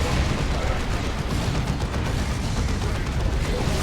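Orbital bombardment striking in a Dawn of War 2 3v3 battle against a Baneblade, a dense, continuous roar of blasts and rumbling explosions with no pause, loud and close, layered over constant battlefield noise.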